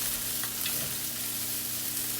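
Soaked rice noodles stir-fry for pad thai with dried shrimp and shallot, a close, continuous hiss and sizzle with faint scraping, no speech.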